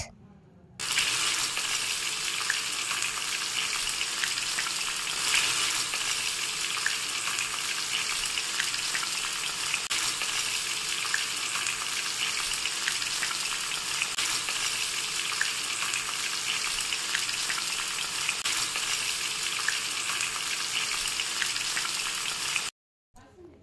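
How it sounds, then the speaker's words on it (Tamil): Fish sizzling in oil that was not fully hot when it went in, giving a continuous dense bubbling hiss at close range that holds steady throughout and then cuts off abruptly near the end, with no one talking. "நான் எண்ணெய் நல்லா கொதிக்கிறதுக்கு முன்னாடியே ஃபிஷ்ஷை போட்டுட்டேன்"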